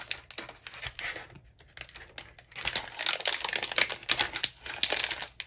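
Wax melt packages being opened, with bursts of crisp plastic crinkling and rustling that start softly and grow louder and busier, close up, with no voices.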